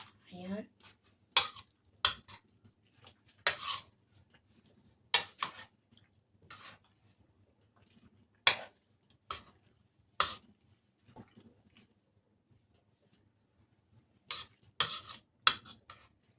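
Achara, pickled green papaya with freshly added sliced pineapple, being stirred in a bowl: a series of sharp utensil scrapes and clinks in irregular bursts, close and fairly quiet, with gaps of near silence between them.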